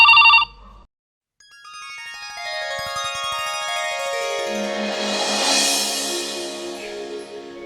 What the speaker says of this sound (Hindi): मुझे फोन आ रहा है, मैं जा रही हूँ।